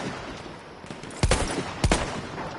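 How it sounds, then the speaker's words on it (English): Two loud, sharp bursts of enemy machine gun fire ring out in the combat game War Thunder, spaced under a second apart over a low background battle rumble. "Enemy machine gun!"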